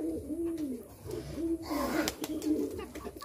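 Madrasi pigeons cooing nearby, giving repeated soft, rolling coos in a steady rhythm, with faint background noise and clicks.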